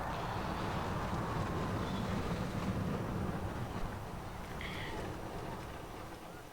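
A ride train pulls away from the station in Planet Coaster, a continuous low rumbling roll under a broad noisy wash that eases slightly toward the end.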